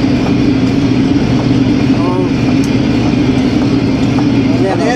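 Aupax 5140 Chinese tractor driving at speed with a steady, loud engine drone throughout, accompanied by cab rattle and road noise.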